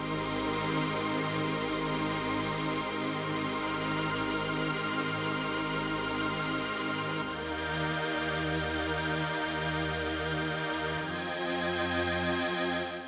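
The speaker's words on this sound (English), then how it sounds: "this chord synth" A chord synth built with Ableton's Analog plays sustained, harmonically rich chords that change every few seconds, a steady unbroken pad with no voices over it.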